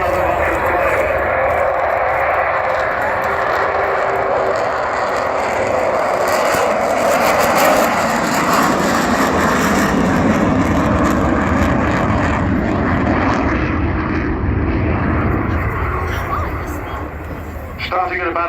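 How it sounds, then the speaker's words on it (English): An Avro Vulcan jet bomber in its final flying display season at the Cosford airshow gives a loud, sustained roar that swells and fades slightly as it passes, with a commentator's voice running underneath throughout. "When this aeroplane lands in October, you will never see another Vulcan fly."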